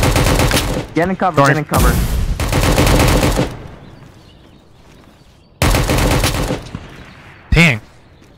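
Gunfire from an AI scav in the shooter game Project Delta: loud automatic bursts in several volleys, with a player talking between them.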